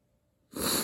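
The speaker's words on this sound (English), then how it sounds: "I got the sniffles" A single quick sniffle from someone with a cold, close to the mic, a short sharp intake of breath after a moment of near silence.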